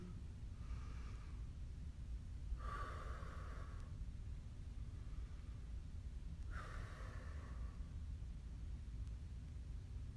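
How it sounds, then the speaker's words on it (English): Two slow, deep breaths taken during a stretching workout, each a soft airy exhale several seconds apart, heard faintly over a steady low background rumble. "we're going to take a deep breath in and out"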